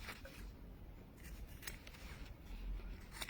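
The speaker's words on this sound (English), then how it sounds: "So now what we need to do is cut off our corners." Scissors snipping off the corners of sewn fabric, a few quiet close-up cuts and faint rubbing over a steady low background hum.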